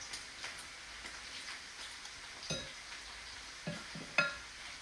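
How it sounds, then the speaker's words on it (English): Flour, egg and onion stirred together in a bowl for okra potato patties, with faint scraping and a few soft clicks of the utensil against the bowl over a low background hiss. "make sure that flour and egg and onion are mixed in really good"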